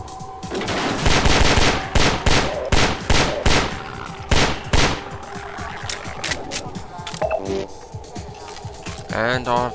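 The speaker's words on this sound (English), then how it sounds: "I've swapped out the MP7 for the MP5 with M203 grenade launcher." In the shooter Half-Life 2, an MP5 submachine gun fitted with an M203 grenade launcher fires rapid, loud bursts of sharp cracks over the first half. Quieter clatter and a voice follow later.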